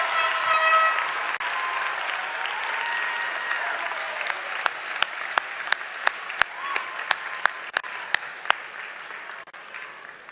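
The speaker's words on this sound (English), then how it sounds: "Let's give them a well-deserved round of applause." A large crowd claps for graduates at a winter commencement ceremony, a dense, sustained wash of applause that gradually thins into a few louder, distinct claps near the end before fading.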